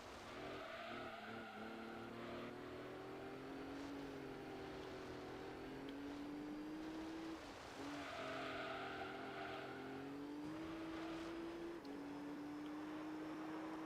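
A car engine racing in Gran Turismo 3, a prize car on long factory racing gearing, drones steadily and rises in pitch through each gear before dropping at the shifts, holding at a constant moderate level throughout.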